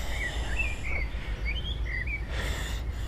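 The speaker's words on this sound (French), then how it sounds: "Ça, c'est un merle, tu vois." A blackbird sings outdoors in a series of short, clear, fluting phrases, moderately distant over a steady low background hum, with no talk during the song.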